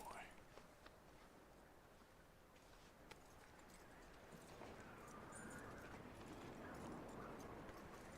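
Horse hooves walking in Red Dead Redemption 2, a steady soft clip-clop running through the whole stretch beneath game ambience and a rider's occasional voice.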